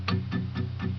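Four quick, evenly spaced palm-muted guitar strums with damped, percussive attacks and short thudding decay.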